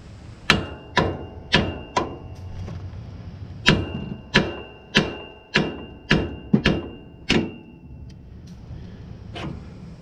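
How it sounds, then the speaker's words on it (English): Sharp metallic blows from a 2-pound sledgehammer tapping out the front strut of a 2015 Ford Expedition ring out close and loud, about a dozen taps in quick uneven bursts with short pauses. "Couple taps, it's a 2-pound sledgehammer, and that will come right out"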